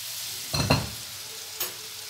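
Pieces of chicken fry in a pan over a steady sizzle, and two loud stirring scrapes are followed by a softer third one. No one speaks.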